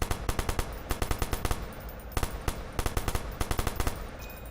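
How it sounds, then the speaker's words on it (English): Tommy gun in the video game Watch Dogs fires in rapid automatic bursts, several separated by short pauses, loud and sharp with no talking over it. "And also the Tommy gun, of course"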